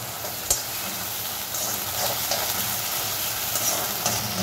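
Veg manchurian being stirred with soy sauce and vinegar in a hot pan, giving a steady sizzle and frying hiss with scraping stir strokes close by, no talking.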